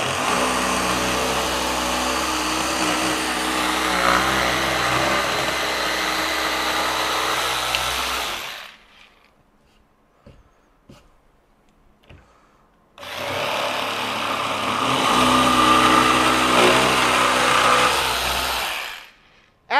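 A Festool PSC 420 Carvex 18V brushless jigsaw cuts wood in two long, loud, steady runs of high whirring and rasping. A few seconds of near silence with faint taps separate the runs.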